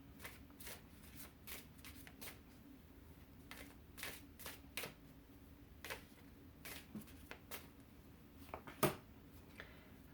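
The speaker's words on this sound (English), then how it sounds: "I love when a deck shuffle's good." A deck of tarot cards is shuffled by hand, giving soft, quick riffling bursts at an irregular rhythm, close and quiet, with one sharper snap near the end.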